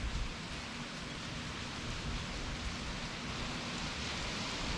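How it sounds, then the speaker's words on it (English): Steady, dense rain falls in Louisiana in the aftermath of Hurricane Laura, an even hiss of rain on surfaces throughout with no talking. "It's going to rain like this probably until 2 o'clock this afternoon."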